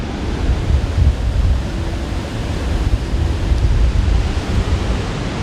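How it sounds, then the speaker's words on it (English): Ocean surf breaks on a beach in Eastern Samar, Philippines, a loud continuous roar of waves and wash mixed with wind buffeting the microphone, swelling slightly in places, no voices. "Catches swell from both the northeast and the southeast, so very good beach for consistent waves."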